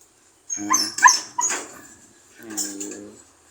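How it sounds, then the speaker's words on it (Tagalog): A small dog lets out a few sharp yips and barks close by, followed by a whiny, drawn-out whimper, with short pauses between. "maingay yung aso ko"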